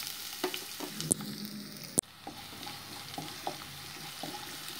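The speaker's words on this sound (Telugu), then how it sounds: "ఉల్లిపాయని లైట్ బ్రౌన్ కలర్ వచ్చే వరకు వేయించుకుందాం" Sliced onions frying in a pan until light brown, a steady close sizzle broken by sharp clicks and scrapes of a spoon stirring, with one loud knock midway.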